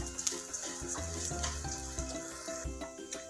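Hot water pours into roasted vermicelli upma in a pan, giving a continuous splashing, gurgling wash with sizzling bubbles, close and steady, with no talking.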